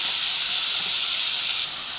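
Tomatoes drop into hot oil already sizzling with mustard seeds, cumin and browned garlic, and a loud, steady frying hiss fills the pan before easing slightly near the end.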